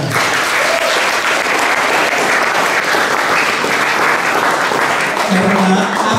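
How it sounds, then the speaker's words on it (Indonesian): Seminar audience bursts into loud, steady applause after a presentation on mass media, a thick wall of clapping from many hands that holds at full strength throughout, with faint voices beneath. "Tepuk tangan untuk kalian."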